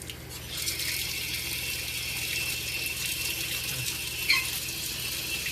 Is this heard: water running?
yes